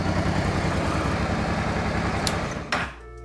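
A carbureted Honda Transalp motorcycle running on E85 idles with a steady, rumbling engine drone, close and loud, then a couple of sharp knocks before it cuts out near the end.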